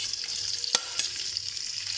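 Green chillies fry in hot oil with a bright, continuous close-up sizzle. One sharp utensil scrape cuts through early, then a lighter tap follows.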